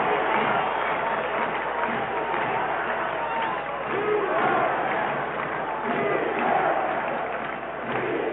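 A crowd of 74,800 at a 1991 Kansas City Chiefs versus New Orleans Saints football game roars steadily on third down, a dense, far-off wash of cheering with swells, under a broadcast announcer's speech.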